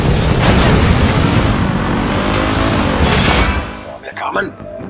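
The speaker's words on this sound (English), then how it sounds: "Close to the explosion!" A loud, sustained explosive roar in a PS3 video game fills the air for a few seconds, then fades into a rumble with scattered lighter sounds.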